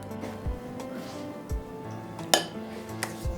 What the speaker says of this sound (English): First we have to mix well, very well, so that besan mixes well.